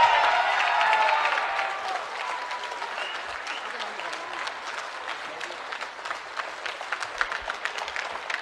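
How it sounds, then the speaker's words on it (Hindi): Sustained audience applause at a literature festival, loud and dense at first and then easing into a steadier, slightly thinner clapping with individual claps more distinct. "तालियां रुकनी नहीं चाहिए।"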